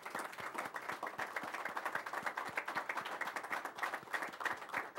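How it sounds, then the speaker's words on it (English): An audience at an entrepreneurship center launch gives a round of applause, with many hands clapping in dense, steady, sharp claps that carry on without a break and sound moderately distant. "Let's give them a round of applause."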